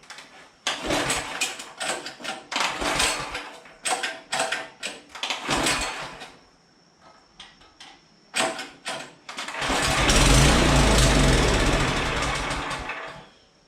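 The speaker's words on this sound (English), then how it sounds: "there, that's what it was doing. Starting and shutting off." A Troy-Bilt rototiller engine repeatedly fires and sputters in short mechanical bursts, cutting out and catching again, then settles into a louder sustained run near the end before dropping off.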